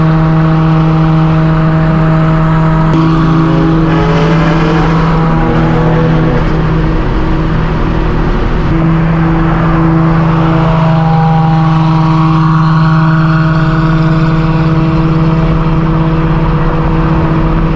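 A straight-piped BMW M4 G82 revs its exhaust at a large car meet in LA. The roar is very loud and close, with the engine note climbing and falling through several sustained revs, and no voices can be heard.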